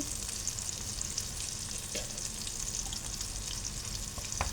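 Salmon sizzles steadily in oil in a frying pan with pesto sauce, giving a dense, continuous crackle with occasional sharper pops and stirring sounds. No voices are heard.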